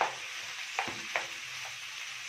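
Diced chicken breast frying in a pan with onion and peppers, a steady broadband sizzle with a couple of brief stir knocks, alone without voices.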